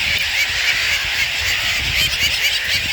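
Gull-like honking calls fill a crowded seagull nesting site with eggs scattered on the ground, a dense, continuous chorus of many birds close by, with no talking.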